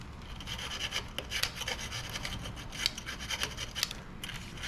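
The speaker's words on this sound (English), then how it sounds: "this surface with a brass wire brush" A brass wire brush scrubs the surface of a motorcycle rear brake pedal, giving quiet, close, irregular scratchy strokes in quick bursts with no voices.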